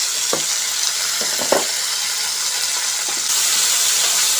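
Ridge gourd peels with turmeric sautéing in a pan, a loud continuous frying hiss broken by a few spatula scrapes early on, the sizzle swelling slightly near the end; no voices.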